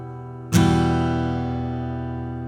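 A single acoustic guitar chord strummed once, ringing out and slowly decaying in a quiet room.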